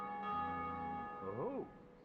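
A large church bell tolls in the Dark Souls game world, a sustained ringing tone with layered overtones slowly decaying, heard alone and fairly quiet, then fading out.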